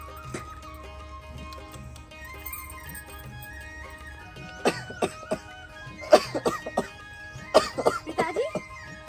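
An elderly father coughs heavily in a quiet indoor setting. A faint lull gives way to a cluster of harsh, repeated coughs and throat-clearing in the second half, close and moderately loud.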